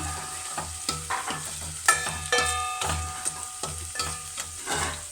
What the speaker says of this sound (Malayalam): അതിട്ട് ഒന്ന് മൂത്ത് വരുന്നവരെ ഒന്ന് ഇളക്കി കൊടുക്കാം